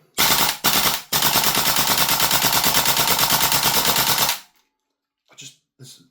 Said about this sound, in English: There's something very AK-ish about that rate of fire.